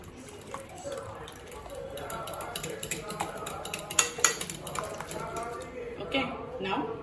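Masala omelette ingredients being stirred together in a bowl, with quick irregular clinks and scrapes of a spoon against the dish, close and moderately loud, with a few sharper knocks.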